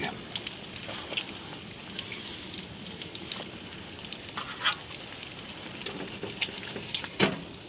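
Egg frying in a Stanley fry pan, a steady soft sizzle with scattered small pops and crackles, one sharper crackle near the end, close and fairly quiet with no talking.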